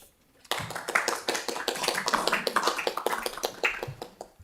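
A small group of people clapping at a council meeting, close and fairly soft, starting after a brief pause and continuing as steady, uneven hand claps to the end.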